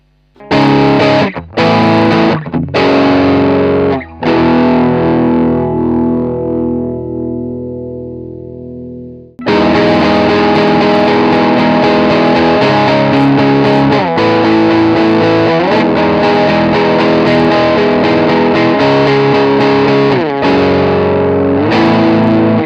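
Loud, heavily distorted electric guitar through a Peavey Bandit 65 solid-state amp, saturation up, with a fuzzy, pedal-like tone: a few chords ring out and decay, then a dense sustained riff plays on without pause.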